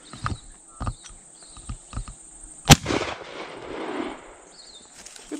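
A single loud shotgun blast rings out at a clay shoot, sharp and close with a lingering rumble, preceded by light knocks and handling sounds.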